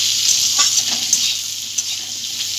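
Potatoes and tomato being stirred in a sizzling frying pan for a cabbage curry cooked with hilsa fish head, with steady frying hiss and scraping spoon strokes, no talking.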